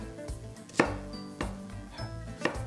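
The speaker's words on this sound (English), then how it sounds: "again, we just want to chop it up" A knife chops an onion on a cutting board for pumpkin soup, with sharp, evenly spaced strikes about every half second, each one close and distinct in a quiet kitchen.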